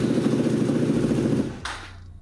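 A motorcycle engine idles with a steady low, lumpy rumble for about a second and a half before shutting off, followed by a brief mechanical rattle and near silence.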